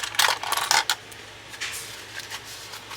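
A metal paper clip is slid onto paper, giving a quick series of light, close metallic clicks and scrapes at the start, then softer rustling and handling, with no talking.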